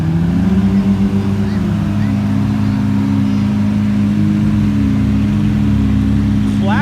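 A Lamborghini Super Veloce supercar engine drones loud and steady nearby at an exotic supercar rally and car show, with a low, sustained rumble that shifts slightly in pitch.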